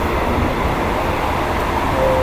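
Steady loud rumble of a train moving at high speed on the Malaysia–Thailand route, a dense continuous roar heard from inside with no distinct clacks or voices.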